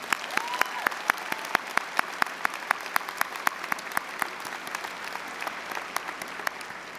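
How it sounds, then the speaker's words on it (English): Scattered applause at a university commencement ceremony, with distinct individual claps rising from a steady crowd patter, moderately distant and sustained throughout. "let's give Mike Reese a great round of applause."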